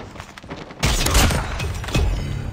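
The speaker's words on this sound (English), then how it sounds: "Gonna use the sniper, cause why not? Need to get one sniper kill for the memes." Sniper rifle fired in a first-person shooter, a sudden loud broadband blast at under a second followed by sustained rumbling gunfire and a second heavy report near two seconds.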